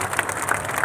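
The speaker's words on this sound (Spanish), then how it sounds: "déjale tomar este aplauso a Jesucristo" A brief burst of dense crowd applause at a testimony gathering, continuous and fairly loud with no pauses.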